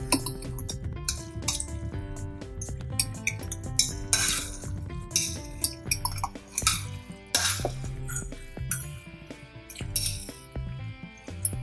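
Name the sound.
mixing with a fork in a dish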